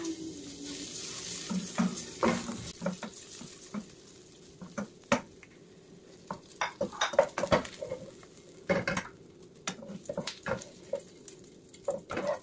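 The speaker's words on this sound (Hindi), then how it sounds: "इसी में थोड़ा सा तेल डाल करके मैं कैप्सिकम को भी हल्का फ्राई कर लूंगी।" Capsicum frying lightly in a little oil in a pan, with a soft sizzle underneath and frequent sharp clinks and scrapes of a utensil stirring against the pan, close and fairly quiet.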